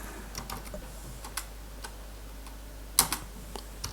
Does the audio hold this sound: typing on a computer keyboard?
yes